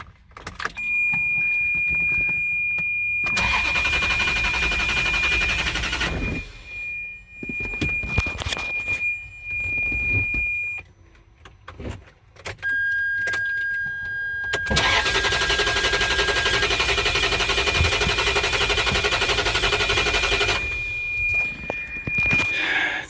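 A salvage Ferrari engine that has had a fire cranks repeatedly but will not fire because it gets no fuel. Long stretches of starter whir run under steady background noise with short pauses between attempts.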